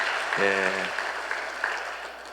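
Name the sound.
congregation applauding in church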